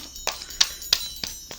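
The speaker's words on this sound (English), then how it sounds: "Jingle bells ring." Small jingle bells ring in a few separate shakes indoors, bright metallic jingles spaced about a third of a second apart, close and fairly quiet, alone without talk.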